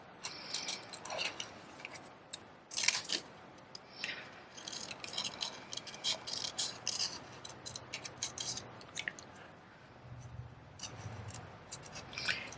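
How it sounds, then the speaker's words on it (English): Paper snips cutting out a small rounded paper bear image for a card, a run of close, crisp snipping clicks at an uneven pace with brief pauses between cuts. "Just using my paper snips to cut this little guy out."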